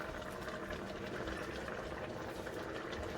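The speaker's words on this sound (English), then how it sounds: "the boiling, it's boiling up." Oxtail stew boiling in a pot, a steady, faint bubbling and simmering that stays even throughout with no voices.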